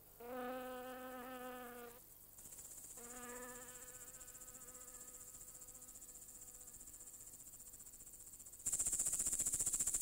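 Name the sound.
grasshoppers and crickets chirping in grass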